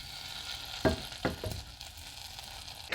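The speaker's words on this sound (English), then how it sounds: "Cook this until the butter has melted and the milk solids have started to brown a little bit." Unsalted butter melting and starting to brown in a small saucepan gives a steady low sizzle, broken by a few sharp clinks or taps near the start and a brief bump at the end.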